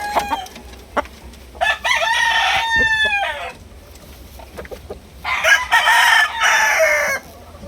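A rooster crows loudly twice, long drawn-out calls a few seconds apart, with hens clucking and scattered knocks in between.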